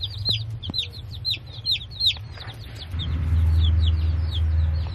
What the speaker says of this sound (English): Here's our 2-week-old tractor supply birds, our 50-cent birds